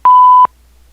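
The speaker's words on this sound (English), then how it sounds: "Please leave a message after the tone." A single loud, clean voicemail tone beep, one steady pitched note lasting under half a second before cutting to near silence.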